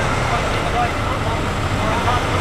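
A white car pulls away from a car show at Homebush in Sydney, its engine and exhaust forming a dense, steady roar throughout.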